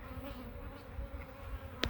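Honeybees buzz in a steady, droning swarm nearby at a disturbed hive, a continuous hum with a brief sharp click near the end.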